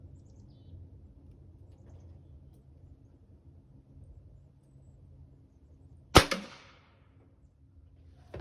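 A single sharp crack from a Hatsan Mod 130QE air rifle with its baffles removed, firing a pellet through a tin at close range, rising abruptly out of a quiet low rumble and then trailing off in a short decaying ring.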